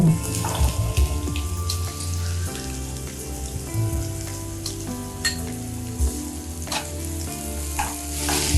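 Sliced onions and green chillies fry in a pan with a continuous, lively sizzle, broken by occasional scrapes and knocks from stirring close by. No one speaks.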